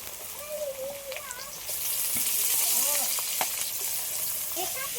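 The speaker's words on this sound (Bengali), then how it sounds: "সবগুলো ভালো করে ভেজে নিয়েছি" Carrot, potato, capsicum and onion fry in oil for chow mein, giving a steady close sizzle that turns louder and brighter partway through. Scattered utensil clinks and faint background chirps sit over it.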